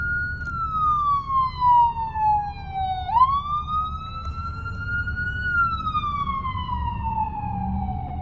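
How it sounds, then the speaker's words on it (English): A wailing ambulance siren sweeps down and back up in pitch, sounding moderately distant over low traffic rumble, on a New York street. "All right, so we got an ambulance coming by."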